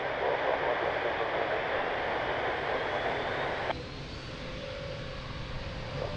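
An airliner departing Lisbon Airport roars with a broad, steady engine rush from a distance, which drops abruptly in level partway through and is followed by a thin high whine.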